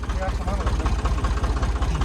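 A tractor engine runs steadily at close range with a low, pulsing diesel throb, loud throughout, on a road trip from Nashik in Maharashtra toward Spiti; voices may be faintly present under the engine.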